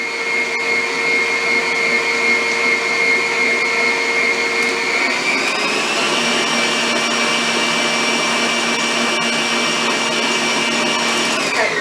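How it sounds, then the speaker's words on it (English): An electric mixer whirs steadily through sugar cookie dough for icebox cookies, a loud close motor whine that shifts up in pitch partway through and keeps running evenly to the end, with no voices. "Now just mix this for a little bit till it gets really mixed good."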